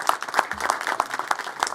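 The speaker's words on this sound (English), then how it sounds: "Let's give them a round of applause." A crowd at a news conference gives the volunteers a round of applause, sparse individual claps standing out in an uneven, moderately loud patter.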